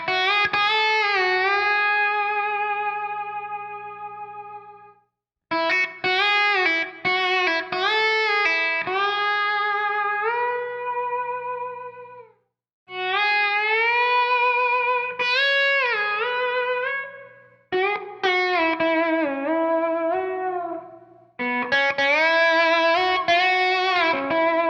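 Slide guitar plays sweet, sustained melodic phrases in several bursts with short pauses between them, notes gliding and landing cleanly, with a treated, slightly effected tone and no voices.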